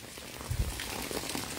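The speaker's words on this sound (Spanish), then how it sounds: "bendito sea Dios que llegó la lluvia aquí a San Juan de los Lagos" Rain falls in San Juan de los Lagos during the first rain of 2023, a soft steady hiss with a couple of low thuds near the start, with no talking.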